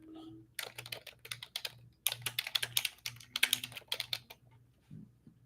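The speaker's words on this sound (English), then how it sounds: "I'm gonna type it in the chat." Quick bursts of clicky typing on a computer keyboard come through close and fairly quiet, with short pauses between runs of keystrokes and a faint low hum underneath.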